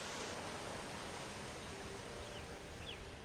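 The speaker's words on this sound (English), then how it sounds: "The waves, of course." Ocean waves in the opening of a played anime ending song, a steady wash of broadband surf noise holding evenly throughout, fairly quiet and without any voices.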